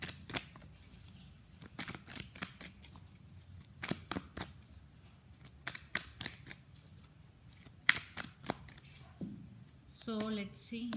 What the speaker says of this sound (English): So let's pull some cards from universe.